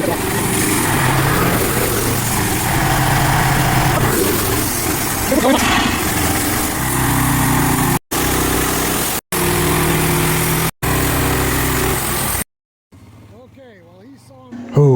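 Portable sawmill engine runs loudly and steadily while its blade cuts through a practice log at a sawmill contest, with a brief pause and a person talking near the end.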